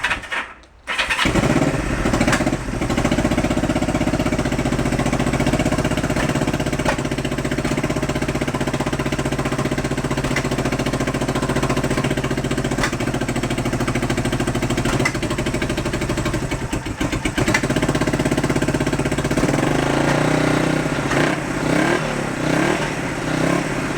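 A 1971 Honda CB350 barn-find motorcycle fires up and settles into a steady, loud running idle on both cylinders, a continuous engine drone with slight fluctuations throughout.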